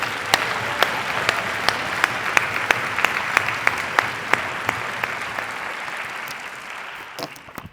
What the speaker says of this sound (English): How about one more round of applause for all of our graduating members?